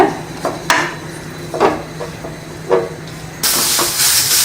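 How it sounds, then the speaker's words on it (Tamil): Carrots sauté in ghee in a pan on the stove, with scattered metal utensil clinks over a low background. Midway, a loud, steady sizzling hiss rises and continues to the end, with no talking. "கேரட்டை கொஞ்சம் நெய்யில் நல்லா வதக்குவோம்."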